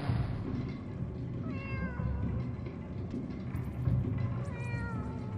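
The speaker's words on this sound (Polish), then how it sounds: "Miau." Animated cat from the video game Animal Well gives a few short meows over a steady, muffled game background rumble, with the calls coming close together.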